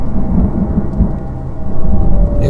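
Loud thunderstorm on a dark night, with deep rolling thunder rumbling continuously over steady heavy rain, no voices present.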